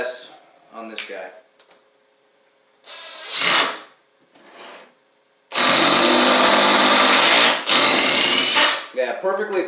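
A Makita oil-impulse soft impact driver runs in one long, steady burst with a brief dip near the end, following a few short quieter taps and handling sounds, close by with no talk.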